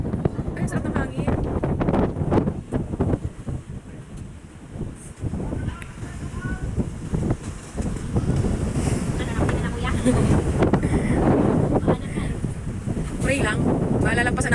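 Strong wind buffets a boat at sea, rumbling continuously across the microphone with gusty surges, while people talk intermittently underneath.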